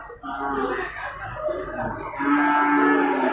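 Simmental cattle at a busy livestock market low and moo in long, drawn-out calls, with a louder bellow near the end over a background of crowd murmur.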